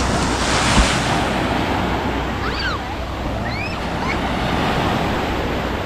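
Sea waves wash steadily against the shore at San Francisco campsite in Lobo, Batangas, a continuous roar of surf mixed with gusts of wind buffeting the microphone and a few faint high chirps.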